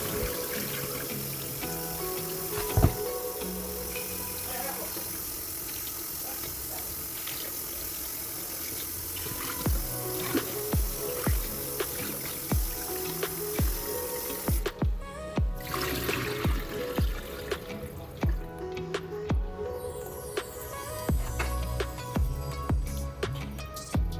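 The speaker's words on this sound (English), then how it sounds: "so just ensure that you wash your rice thoroughly." Rice being rinsed in a container of water for Jamaican rice and peas, heard as steady running water with splashing and swishing that turns into sharper, irregular sloshes partway through, with no talking.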